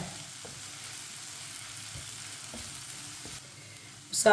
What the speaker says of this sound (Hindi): दो मिनट के लिए पका लेंगे मसालों को भी।